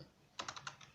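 A handful of quick keystrokes on a computer keyboard while entering a login on a Linux system, about five close, crisp clicks in an irregular burst after a short quiet pause.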